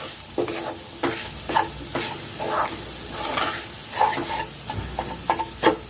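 Moong dal roasting in a pan for halwa, dry grains rattling and scraping under repeated spatula strokes over a soft sizzle, close and uneven in rhythm, no voices.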